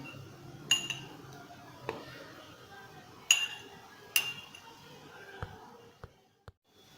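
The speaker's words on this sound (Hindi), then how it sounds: "स्पून की मदद से गिलास के अंदर भी मैं चॉकलेट लगाऊंगी।" A metal spoon spreads chocolate inside a drinking glass while an Oreo milkshake is being made, giving a few sharp, bright clinks against the glass amid soft scraping and quiet kitchen handling.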